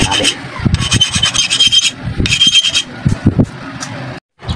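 A hand file rasps rust off a corroded Yamaha NMAX motorcycle stator in repeated back-and-forth strokes, close, loud and steady, ending in a brief silence.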